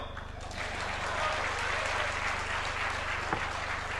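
An audience applauds after a speech at a conference on Sanatana Dharma, dense continuous clapping from a crowd, steady and fairly loud throughout.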